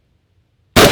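A single rifle shot fired with a C-clamp support-hand hold over the top of the gun, a sudden loud, sharp blast that breaks a near-silent stretch and rings on to the end.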